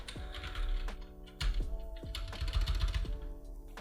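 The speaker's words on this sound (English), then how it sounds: "So I've paired it with Bluetooth and I can type as easy as that." A budget mechanical keyboard under £50, connected over Bluetooth, is typed on steadily. The dense keystrokes clack close and loud with no pauses and no voices.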